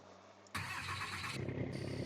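A Ford truck engine in Farming Simulator 22 starts abruptly after a quiet hum, then settles into a steady, close idle with a slight rhythmic throb.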